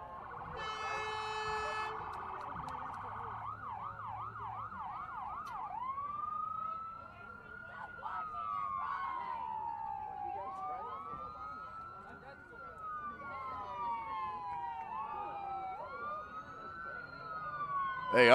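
Emergency vehicle sirens pass near an outdoor girls' high school soccer game, first a rapid yelp and then long rising and falling wails that carry on throughout at moderate loudness, with voices nearby.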